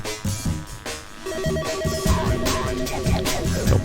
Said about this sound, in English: Go pick up the phone.